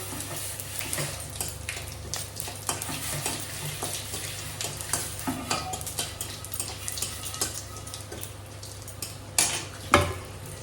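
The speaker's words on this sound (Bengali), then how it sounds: "তরকারি রান্নার জন্য সম্বরে দিয়ে দেবো গোটা জিরে, আর তেজপাতা।" Whole cumin seeds and bay leaves sizzle in hot oil for a curry tempering, a steady close crackle with scattered pops and a few louder clinks of a utensil against the pan near the end.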